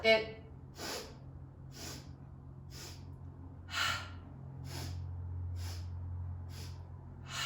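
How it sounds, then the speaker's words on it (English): Short, quick sniffing breaths through the nose during a Pilates mat workout, repeated about eight times at a steady pace over a low background hum. "So I'm doing this little sniff breath."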